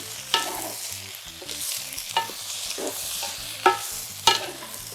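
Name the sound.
stirring chicken stir fry vegetables in a wok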